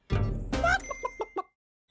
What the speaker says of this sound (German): Frau Huhn, darf ich mal in ihr Nest sehen